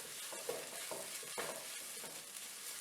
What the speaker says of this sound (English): Just mix it so that it gets rid of the raw smell.